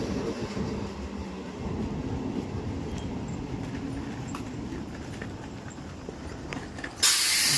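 A big train rumbles past in a steady, loud mechanical roar with rhythmic wheel clatter on the rails, ending in a sharp, louder burst of noise.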